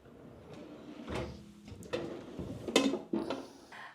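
A kitchen drawer holding cutlery and pans slides and clatters, with several short rattling knocks and bumps over a few seconds, close and fairly quiet, with no talking.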